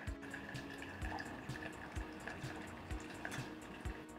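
Espresso from a manual lever press pours as a steady liquid flow, with a faint background hum and soft periodic knocks recurring about every half second.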